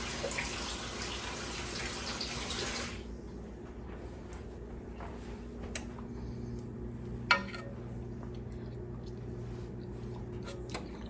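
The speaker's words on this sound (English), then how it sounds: "Let me rinse my spoon off." A kitchen tap runs briefly while a spoon is rinsed during cooking, a steady hiss of water lasting a few seconds before cutting off, followed by quieter room noise.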